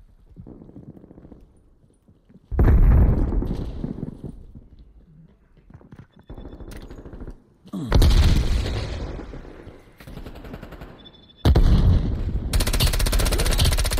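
Automatic gunfire with heavy recoil in Call of Duty: Cold War Demolition mode comes in several loud, sustained bursts, each cutting off into short gaps of quieter game noise.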